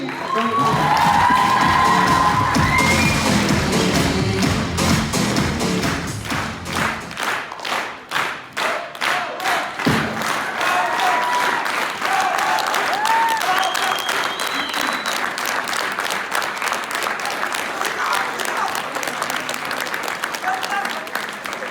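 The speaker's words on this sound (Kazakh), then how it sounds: "Шапалақ ұрады." Loud audience applause and cheering at a Zhaidarman comedy contest show, sustained crowd clapping with shouts and whoops at first, then settling into steady rhythmic clapping for a long stretch, with occasional thumps.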